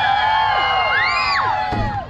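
A lumberjack show crowd at the PNE lets out a practice cheer: a burst of shrill whoops, yells and rising shouts from many people at once, loud and close, tapering slightly at the end.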